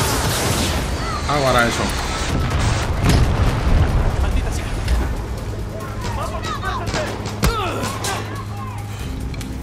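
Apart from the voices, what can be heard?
gunfire and explosions in video game Far Cry 6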